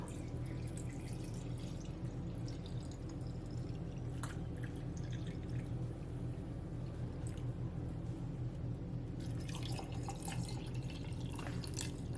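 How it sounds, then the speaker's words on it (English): Carrot, celery and peach juice poured into a mason jar, a steady soft trickle with faint drips and splashes throughout, no talk. "So now I'm gonna pour it to my mason jar."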